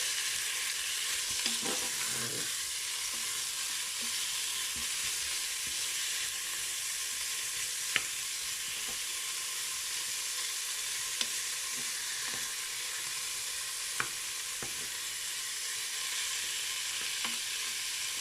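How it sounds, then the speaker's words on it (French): A pork roast with leeks, potatoes and fat browns in a pan, giving a continuous close frying hiss and sizzle with occasional small pops and utensil clicks, with no voices. "On va tout faire dorer"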